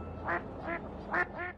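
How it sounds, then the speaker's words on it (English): Ducks quack in a group, four distinct nasal quacks spaced evenly over a low background hum, fairly faint and at a middle distance. "Too many ducks."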